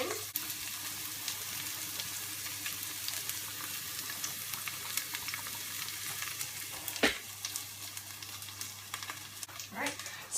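Onion sizzles and crackles in a pan in a steady, close hiss, broken by a few sharper clinks and stirring scrapes.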